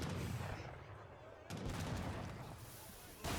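Booming mortar and siege fire from an Age of Empires III match, with heavy, rumbling blasts and a sharp report at the start and a sudden louder burst near the end, under continuous battle noise.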